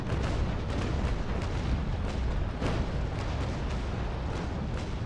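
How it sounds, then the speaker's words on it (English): A frigate's cannon broadside in the Naval Action naval game rolls out as a dense string of booming shots, loud and continuous with repeated sharp blasts layered over rumbling for about five seconds. "I might actually fire a broadside at this guy while I'm doing so"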